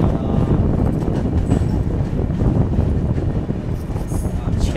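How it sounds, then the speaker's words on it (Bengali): A passenger train on the Kolkata to Dibrugarh route pulls out of small two-platform Sorbhog railway station in Assam, with a loud, close, continuous low rumble of wheels and carriages and some wind buffeting throughout. "ছেড়ে দিল আমাদের ট্রেনটি সরভোগ স্টেশন থেকে।"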